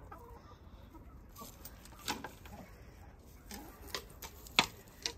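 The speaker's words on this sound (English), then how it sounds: "This little chicken is kind of a bully." A small flock of chickens, including a pushy hen blocking others, as two flocks are combined; soft scattered clucks and squawks over a steady farmyard murmur, with a few sharper calls standing out.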